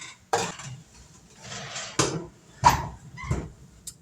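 A pan of homemade granola slides into the oven, with several separate metallic clanks and knocks of pan and rack or oven door, fairly close, with quiet gaps between them.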